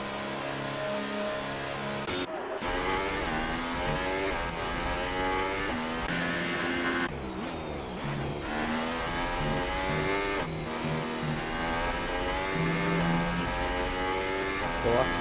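A Formula 1 car engine on a qualifying lap at the German Grand Prix screams steadily, rising and dropping in pitch through gear shifts, with a commentator talking over it.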